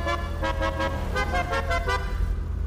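A car horn honks in a rapid series of about seven short toots, loud and close over a low, steady background hum.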